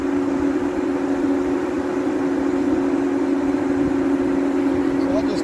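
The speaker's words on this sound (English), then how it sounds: "The fan's running." A cooling fan runs on a CFMOTO ZFORCE side-by-side, giving a steady close electric hum with a constant whirring drone and no change over the stretch.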